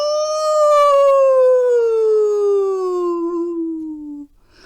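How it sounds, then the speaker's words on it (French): A wolf howls again, nearer than before: a single long, loud, steady howl that slowly descends in pitch over about four seconds before breaking off, heard alone without any talking. "Un peu plus tard, on entend le loup hurler à nouveau."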